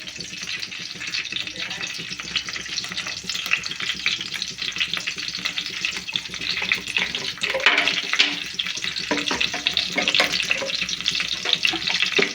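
Green chillies frying in hot oil in a pan for a Telugu-style yam and egg curry, a steady loud crackling sizzle that runs throughout with a few brief faint bursts of speech.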